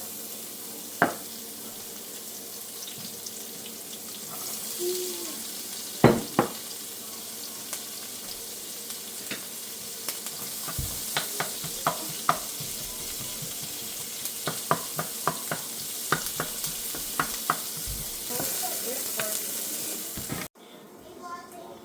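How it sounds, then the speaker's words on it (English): Onions and peppers fry in about two tablespoons of leftover bacon grease, producing a continuous close sizzle punctuated by many sharp utensil taps and scrapes, which end in a sudden drop to quiet. "I'm going to cook my onions and my peppers just a little bit"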